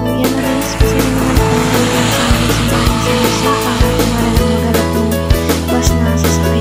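Steady engine drone from a bus carrying passengers in light drizzle, a continuous low rumble with periodic soft thumps, sustained and fairly loud with no talk.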